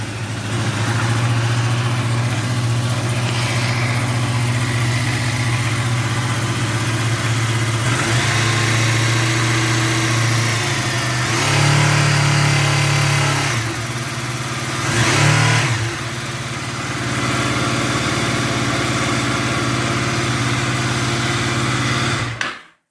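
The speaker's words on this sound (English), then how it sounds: "So I'm going to turn the ignition on and we'll see if it will start." A Honda VFR 800 motorcycle with a stator and regulator fault starts up and runs steadily, its engine drone loud and close, with a few brief revs rising and falling over the idle.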